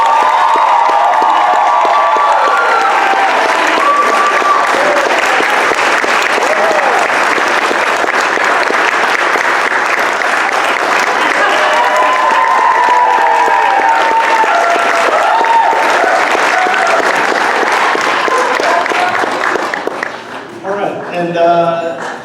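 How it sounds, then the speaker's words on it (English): A theater audience at the Regent Theater claps in a long, dense, sustained round of applause that fades toward the end. "So please give them a round of applause."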